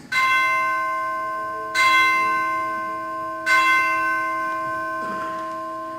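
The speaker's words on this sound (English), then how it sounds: "The bell invites me" A church-style bell tolls three times on a stage production of Macbeth, each loud, ringing strike decaying slowly into a long sustained hum before the next, with no voices over it.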